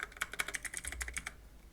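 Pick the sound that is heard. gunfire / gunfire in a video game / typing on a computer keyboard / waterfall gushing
typing on a computer keyboard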